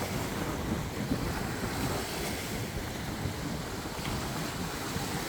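Waves wash steadily against the shore of Lake Peipus with a constant rushing roar, while wind buffets the microphone; no voices are heard.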